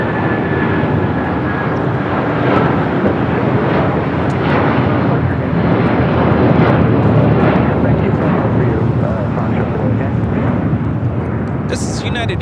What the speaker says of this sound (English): This is Hawaiian Airlines Flight 3 taking off to Honolulu on the A330-200.